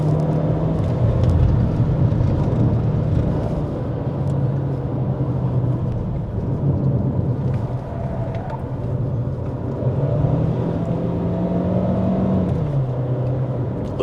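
A Chery Tiggo Cross driving downhill on a mountain road, its engine and road noise humming steadily from inside the cabin as the automatic gearbox shifts up, with pitch dropping and rising again.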